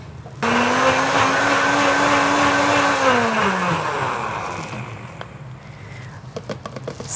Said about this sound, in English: But we can always also use the blender.